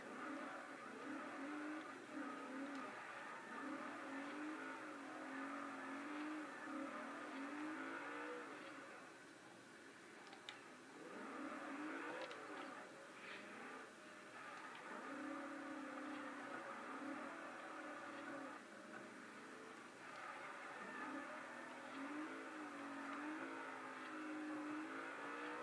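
Engine revving and tire squeal from a car drifting in the racing video game Forza Horizon, with continuous rising and falling engine tones and repeated skids over about 25 seconds, loud and steady with no talk.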